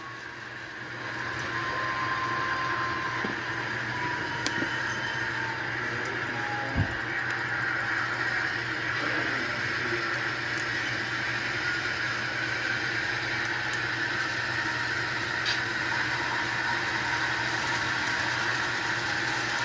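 A Kato model train locomotive runs on track at low throttle, giving a steady, continuous motor hum with faint rail rumble, close and even throughout with no talking.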